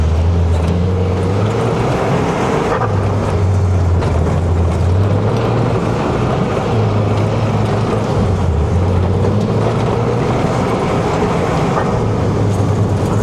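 A Segway Super Villain off-road side-by-side engine revs loud and close over rocky off-road terrain, its low droning note repeatedly climbing and dropping as the throttle comes on and off, with no talking.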